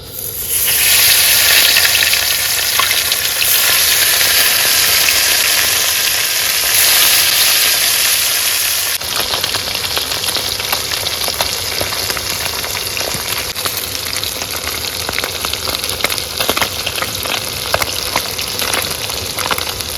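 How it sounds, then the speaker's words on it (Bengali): Steady, loud sizzling of fish frying in hot oil, a dense hiss that settles slightly quieter partway through, with faint scraping crackles. "তেল কিন্তু গরম হয়ে গেছে আর এখন এক এক করে মাছগুলো সব ভেজে নেবো"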